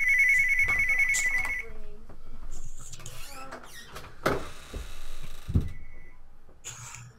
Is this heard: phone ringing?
yes